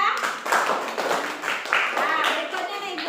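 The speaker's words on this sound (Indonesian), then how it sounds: "Tepuk tangan untuk kelompok 3." A classroom applauds a student group with a short burst of scattered hand clapping, close by and mixed with voices.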